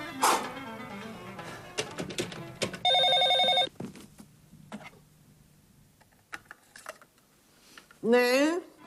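A telephone in a Greek TV drama produces a loud burst of electronic ringing, followed later by another short warbling ring, amid clicks and brief voices.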